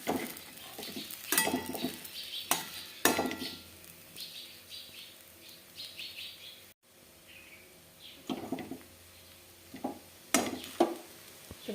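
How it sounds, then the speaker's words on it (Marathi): Potato fasting khichdi is sautéed in a pan, giving a quiet sizzle with intermittent spatula scrapes and clatters, plus a brief high chirping partway through. "मला आता व्यवस्थित परतून घेऊ."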